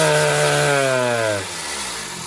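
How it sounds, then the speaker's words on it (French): A Peugeot 103 moped engine screams at full throttle in a high, buzzing two-stroke wail, then is cut and falls away abruptly, leaving a quieter, fading rumble, close by with no voices. "On va accélérer à fond et couper."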